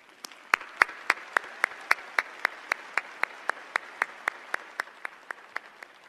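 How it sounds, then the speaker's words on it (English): Students at a live college event get applause, heard as a single pair of hands clapping in a steady, even rhythm of about twenty sharp claps, fairly close and alone, with no voices. "let's give them an incredible round of applause"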